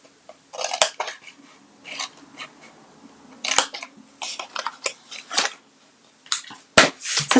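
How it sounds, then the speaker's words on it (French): Scissors cutting a paper tab for a scrapbook organiser box, a quick run of crisp close snips and paper rustles in uneven bursts, with no talking. "Ah ben tiens, j'ai oublié de couper celle-ci."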